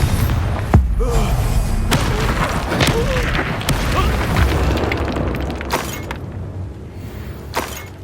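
Fiery blast spells and magical combat in the Hogwarts Legacy video game: several sharp booms and thuds burst over a continuous rumbling battle bed, with scattered crashes and impacts throughout.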